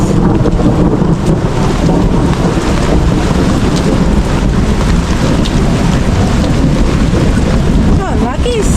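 Heavy rain pours during a countryside storm, with thunder rumbling and wind buffeting the microphone in a dense, loud, unbroken wash of noise.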